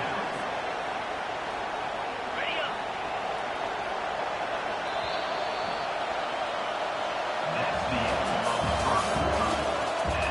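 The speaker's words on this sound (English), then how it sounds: "Now the crowd responding in the red zone, trying to help this defense." A college football stadium crowd roars as the home defense is urged on in the red zone, a steady wash of cheering and noise that builds slightly toward the end under broadcast commentary.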